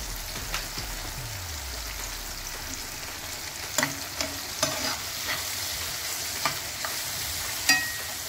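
Onion and tomato frying in a pan for a Marathi vegetable dish, with steady soft sizzling and scattered clinks and scrapes of a spoon stirring, fairly faint and without talk.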